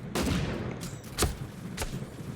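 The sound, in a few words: explosive sniper rifle shots in the video game Super Mecha Champions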